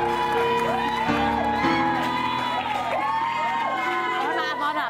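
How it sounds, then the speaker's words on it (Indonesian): A television studio audience cheers and applauds, with shouts and whoops rising over a busy crowd din and a musical backing, while a voice carries on underneath. "Oh, kasih tepuk tangan dong."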